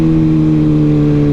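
A Kawasaki Ninja ZX6R 600cc motorcycle engine pulling hard on a highway, a loud steady droning hum held close throughout with no voices.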